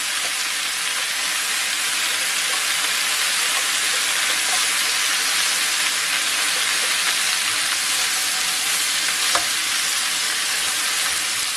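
Fatty pork pieces fry in a pan for Greek pork tigania, giving a steady, loud, close sizzle that holds evenly throughout with no voices.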